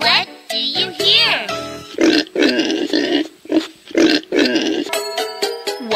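A pig grunts and oinks in several short, close bursts, mixed in with a child-like voice speaking over and between the grunts.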